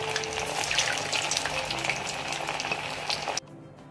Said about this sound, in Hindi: हमारे बॉल्स तैयार हो गए हैं, चलिए अब हम इसको तलते हैं।